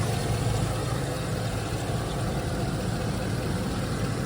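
A GM Vortec 6000 6-liter V8 idles steadily in a 2016 Chevrolet Express 4500 16-foot box truck, a continuous low rumble with broadband engine noise holding even throughout, close and fairly loud, with no talking.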